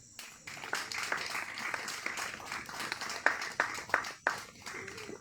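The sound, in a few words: applause at a home worship service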